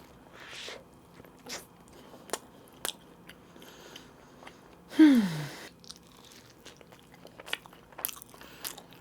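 Crispy Mom's Touch allulose fried chicken is bitten and chewed up close, with a loud crunchy bite in the middle among scattered smaller crunches and chewing sounds in an otherwise quiet room.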